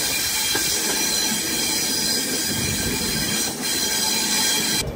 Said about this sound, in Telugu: అసలు బయలుదేరింది మన ట్రైన్.